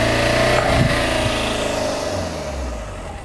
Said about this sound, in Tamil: இன்னும் கொஞ்சம் ரேஸ் பண்ணுங்க